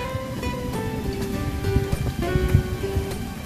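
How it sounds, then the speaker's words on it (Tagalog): Steady rain patters on the ground and foliage along a hiking trail in Dahu park, a constant soft wash that rises slightly now and then, with faint tonal noises drifting through the background. "Umulan na po."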